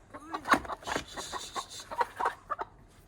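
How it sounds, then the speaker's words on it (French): Hens clucking close by in short irregular bursts, fairly quiet, with a faint voice here and there. "Donc on adopte un peu des poules moches"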